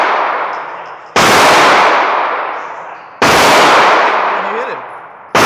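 A shotgun fires in several loud, sharp blasts spaced a second or two apart. Each blast hits with a hard crack, then a rumbling tail fades away before the next shot.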